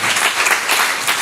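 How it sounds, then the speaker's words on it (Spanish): A church congregation applauds during a Spanish-language sermon, a dense, steady wash of many hands clapping at once, loud and close, with no gaps across the short burst. "Dele palmas al Señor."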